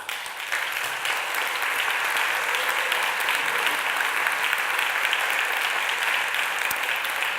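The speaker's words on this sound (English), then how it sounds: "So I'd like to give them a round of applause" An audience at a Barcelona talk applauds steadily, with dense, even clapping that holds throughout without pause.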